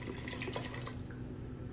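Water pours steadily into a cooking pot holding spices and chilies for ghugni, a short, close, continuous splashing rush with no voices.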